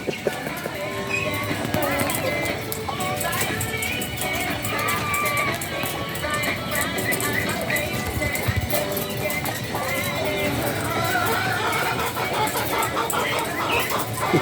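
Chickens cluck and squawk amid a busy outdoor scene, with voices talking nearby and scattered knocks and rustles throughout.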